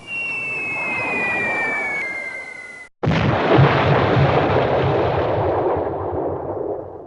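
Board-game sound effect of a B-17 squadron salvoing bombs: a falling whistle that drops in pitch, a brief silence, then a loud booming explosion that rolls on and slowly fades.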